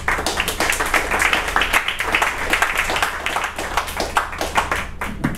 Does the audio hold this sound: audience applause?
yes